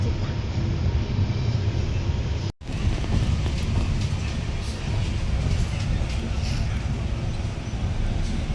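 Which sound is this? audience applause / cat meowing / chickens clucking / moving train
moving train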